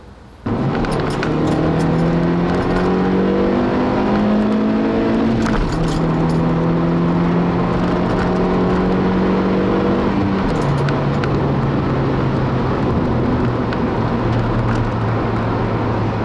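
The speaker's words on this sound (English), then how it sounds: "you do have to rev the crap out of this little 4-cylinder" A 2012 Honda Fit Sport's small four-cylinder engine revs hard and loud from inside the car, climbing in pitch through several gear changes with brief drops between them.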